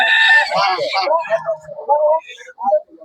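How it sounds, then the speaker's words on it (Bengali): Chickens and roosters cluck and call at a traditional poultry market, with loud, close bird calls first and then quieter scattered squawks. "এই ঐতিহ্যবাহী পার্ক বাজারে মুরগি, মোরগ, অনেক দেশি দেশি মুরগি এখানে আছে"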